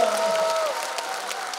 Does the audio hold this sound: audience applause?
yes